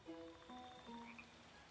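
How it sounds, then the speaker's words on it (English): Nighttime ambience in the SimCity video game, with frogs croaking and crickets trilling, soft and distant in a steady layered chorus. "Listen, you can hear crickets."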